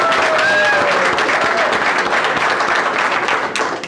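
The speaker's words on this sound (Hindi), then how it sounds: "ताली बजा दीजिए सबके लिए" Audience applause at a motivational seminar or meeting, a dense, loud wash of clapping from a large crowd sustained throughout, tapering slightly at the end.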